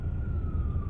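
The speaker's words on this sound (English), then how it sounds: "as the sirens come on by" A siren from emergency vehicles passing a busy New York City intersection wails as a steady high tone over dense traffic rumble, heard from inside a moving car.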